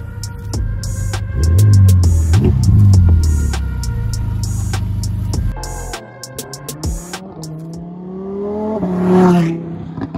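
A Ferrari F8 Spider roars through several hard revs, its engine pitch climbing and dropping in loud, close sweeps with a deep throbbing idle between blips before a final rising burst.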